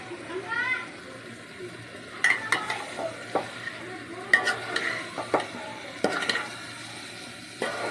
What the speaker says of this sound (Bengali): আর খাসির গোশের সাথে বুটের ডালটা দিচ্ছি